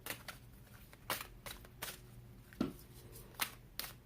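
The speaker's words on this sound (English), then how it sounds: "it's so hard to shuffle that" Tarot-style cards shuffled by hand, quiet riffling bursts recurring irregularly with soft slaps and papery rustles, close but faint, no talking.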